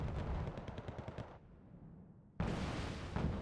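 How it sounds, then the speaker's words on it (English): Artillery barrage in the Wargame: Red Dragon video game, a rapid chain of heavy blasts that rumble and fade into a lull before a fresh loud burst of impacts returns, close and dense, no voices. "I completely forgot the second barrage here that nearly got my CV"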